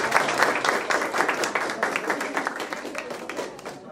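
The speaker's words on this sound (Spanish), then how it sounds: "Un aplauso para la licenciada." Audience applause at a health centre accountability ceremony in Naranjal, a steady wash of many hands clapping with some crowd voices mixed in throughout.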